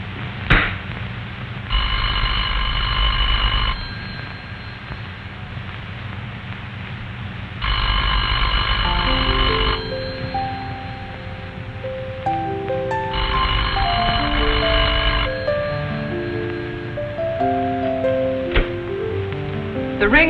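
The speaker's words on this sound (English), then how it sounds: "The party at this number will hear a clear, evenly spaced ring that sounds like this." An old rotary-era telephone bell rings in clear, evenly spaced bursts, three rings about two seconds long with pauses between, while soft music-like tones play in the background.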